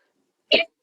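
Two sharp, abrupt bursts, close and loud, like a sneeze and a quick follow-up, against silence.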